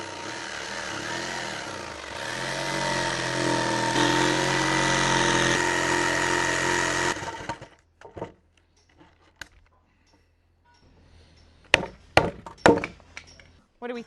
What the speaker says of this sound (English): I'm just chopping out a couple of holes here just to test and see how it works.